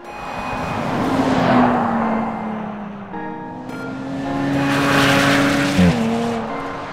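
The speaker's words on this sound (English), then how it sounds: "this 3-liter supercharged V6 is from the F-Type Jag" A Jaguar XE with a 3-liter supercharged V6 driven hard on snow, engine revving up and down through gear changes with a rising supercharger whine and a brief tire squeal, loud and close.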